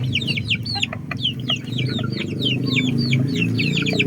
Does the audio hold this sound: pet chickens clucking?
yes